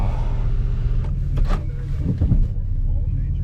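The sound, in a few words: car engine idling and warming up in the cold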